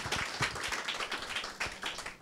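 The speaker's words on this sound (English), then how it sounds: "Give him a big round of applause, the real Coach Carter." An audience applauds the real Coach Carter, a dense, steady patter of many hands clapping at moderate distance, fairly soft, with no talk over it.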